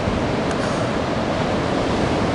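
Surf at Anglet with waves around 1.5 to 2 metres under a west-southwest swell, heard as a steady broadband roar of breaking water filling the whole stretch without pauses or voices.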